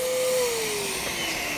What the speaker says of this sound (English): that pump's running, it's going to suck this thing dry